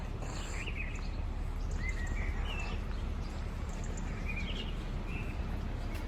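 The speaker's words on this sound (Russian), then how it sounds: "Слышите, как птички поют?" Birds sing outdoors in a green, wooded spot in Turkey. The chirps are faint and scattered over a steady background rumble, with no talking.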